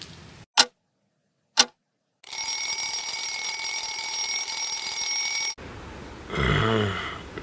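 A bedside alarm clock rings in a loud, continuous electronic burst lasting about three seconds after two short clicks, then cuts off, followed by a brief rustle and faint noise in a quiet room early in the morning.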